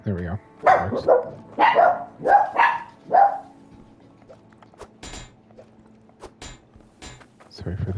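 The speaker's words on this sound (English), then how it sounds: "Sorry for the barky dogs." Several dogs bark in quick bursts early on, fairly close and loud, then quieter mechanical clicks and creaks follow, with someone speaking briefly over the noise.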